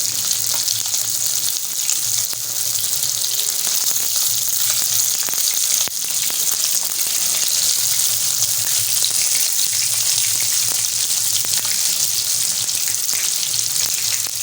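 Finger fish fries in a pan over a medium-high flame, giving a steady, close, continuous sizzle and crackle of hot oil for the whole stretch.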